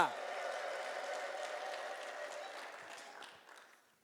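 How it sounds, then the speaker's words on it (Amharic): Applause and ululation from a church congregation praising God during a Christian fellowship service, sustained and fairly distant at first, then gradually fading away near the end. "እስቲ ለዚህ ጌታ እንደገና እልልታ፣ ጭብጨባ።"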